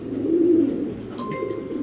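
A male Mili racing pigeon gives a single low, rolling coo up close, followed by quieter throaty murmuring.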